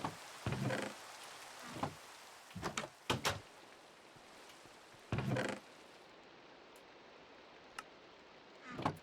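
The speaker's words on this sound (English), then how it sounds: "Maybe it'll get rid of this rain." Steady rain hisses over a Sevtech Ages game world, with a handful of sharp clicks and knocks standing out now and then above the even downpour.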